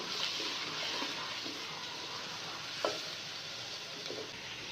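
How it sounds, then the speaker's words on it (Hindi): Ground onion frying in a pan for spiced green bean and meat curry, a steady close sizzle throughout with a brief stir or clink near the middle. "प्याज को हम फ्राई कर लेंगे तकरीबन 3 से 4 मिनट के लिए।"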